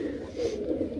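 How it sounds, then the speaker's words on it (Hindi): Several pigeons kept together in a coop coo in a low, steady, overlapping murmur, close and fairly loud throughout. "तो दोस्तों यार काफ़ी सारे कबूतर हो गए"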